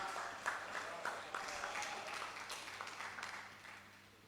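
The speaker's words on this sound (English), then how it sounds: "let's welcome Jaedi with a round of applause" Audience at a national Rastafari conference gives a round of applause to welcome a speaker, a faint, distant wash of clapping with a few louder individual claps, steady throughout.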